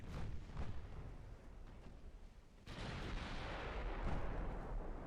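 Naval gunfire from British cruisers in the video game Ultimate Admiral Dreadnoughts, a rumbling series of heavy booms that swells into a louder sustained barrage of distant artillery and secondary guns.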